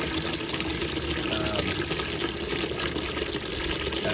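Water drains steadily from an RV gray water tank as a continuous, loud, even rush and gush that runs unbroken through the whole clip.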